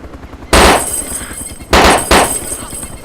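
Loud gunfire in the zombie survival game DayZ, three sharp close shots with reverberant tails, the first after a short quiet lead-in and the last two in quick succession.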